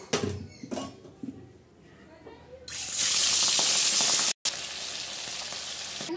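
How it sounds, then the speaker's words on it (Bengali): Small bacha fish drop into hot mustard oil in a wok, and a loud, dense sizzle erupts after a few quieter kitchen sounds, holding steady with one brief break while a voice is heard near the start. "আমার তেলটা ভালোভাবে গরম হয়ে গেছে, মাছ দিয়ে দেবো।"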